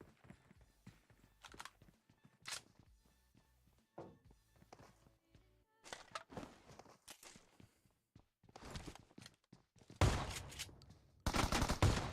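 Shotgun and SMG gunfire in a tournament video game match, footsteps tapping between scattered shots, then louder dense bursts of rapid firing near the end, with a commentator talking at times.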